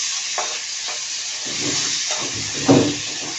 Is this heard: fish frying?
yes